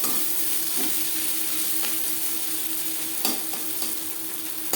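Chopped onion and green chili fry in a pan for a stem-greens dish, giving a soft, steady sizzle with a few scraping stirs of the spoon and no talk.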